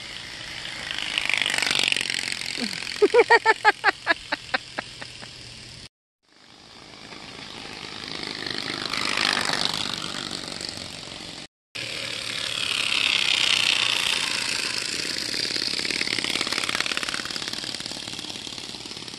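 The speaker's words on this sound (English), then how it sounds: "He's got a card in his tire, making it sound like a motorcycle." A rapid flapping rattle like a card slapping bicycle spokes, buzzing somewhat like a small motorbike, amid rushing wind noise outdoors, with brief cuts.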